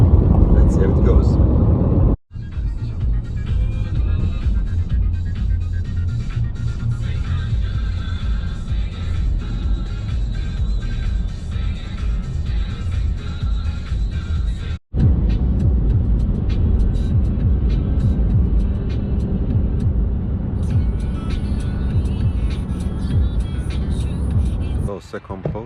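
A car drives along a German road with a steady engine and tyre drone from inside the cabin, two brief cuts breaking the sound, while someone talks over it.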